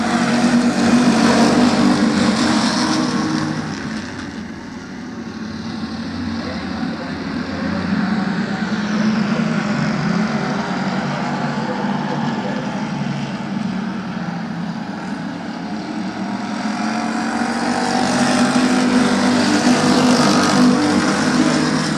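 A pack of race cars roars off at the start of a 20-lap feature at Midvale Speedway, a dense, loud engine drone that swells, dips slightly, then builds again as the field passes.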